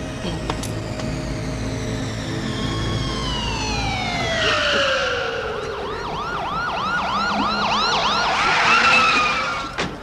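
An ambulance siren wails in falling and rising sweeps, then switches to a fast warbling yelp as it draws nearer, loud over a background of traffic noise.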